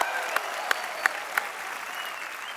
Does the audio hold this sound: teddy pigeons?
no